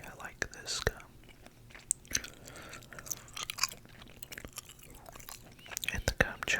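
Gum is chewed right against the microphone in a whispery ASMR setting, with soft wet smacks and clicks repeating irregularly throughout, quiet and intimate.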